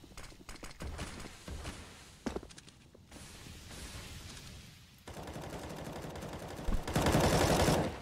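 Counter-Strike gunfire on the Nuke map: rapid rifle sprays and bursts crackle in loud clusters, with footsteps and mechanical clatter between them, ending in a dense, sustained volley.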